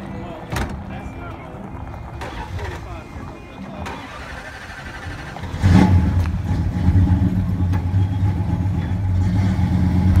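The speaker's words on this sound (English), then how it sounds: "This Trans Am is leaving." A Pontiac Trans Am at a car cruise-in starts up and revs as it pulls away, its engine swelling louder partway through and holding a rumbling drone, with people talking nearby.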